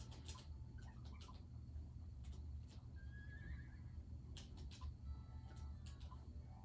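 A horse in the Miitopia video game whinnies once in a short, clear call, backed by steady game music with faint clip-clop sounds and no talking.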